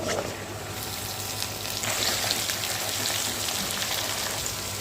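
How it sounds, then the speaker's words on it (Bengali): Mutton sizzles in a pan with ghee and fried onions, a steady crackling fry holding at moderate loudness throughout without pause. "এভাবে 10 মিনিট ভাজতে থাকবো।"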